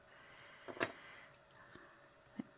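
A metal letter E keyring from a jewellery auction lot is handled close by, giving a few light, bright metallic jingles and clinks with quiet gaps between them.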